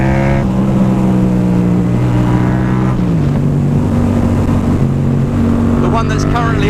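A Yamaha MT-07 motorcycle fitted with a Hyperpro exhaust runs loud and close, its steady engine drone shifting pitch partway through and then climbing toward a rev near the end, with some speech mixed in.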